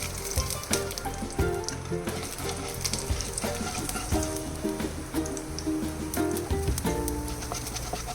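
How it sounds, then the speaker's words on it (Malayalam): Mustard seeds and urad dal frying in hot oil for a cabbage and drumstick leaf thoran, a close busy sizzle with rapid crackles and pops, fairly soft, with a few scrapes from stirring. "കടുക് പൊട്ടി കഴിഞ്ഞ് ഉഴുന്ന് പരിപ്പിടുക"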